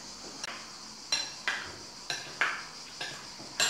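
A utensil scrapes and clinks against a dish while stirring a thick soy sauce mixture for a spiced caramel chicken, with about seven distinct light taps and scrapes spaced unevenly, close and fairly quiet.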